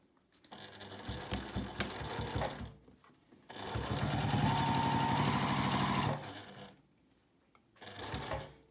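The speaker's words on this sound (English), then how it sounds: "line up your binding with the edge of your coaster and start stitching right here where you can feel where the fold is" A sewing machine stitches binding onto a quilt-as-you-go patchwork coaster in two steady bursts of rapid stitching, with a short pause between them and a brief third burst at the end, close and clear with no talk.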